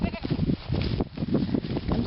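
Several goats bleat in a close, noisy chorus of overlapping wavering cries, continuous throughout.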